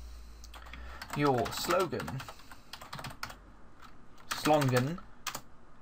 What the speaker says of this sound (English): now if I type in something like